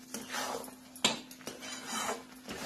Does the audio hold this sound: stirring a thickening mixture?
yes